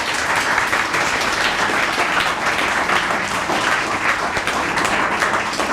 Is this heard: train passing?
no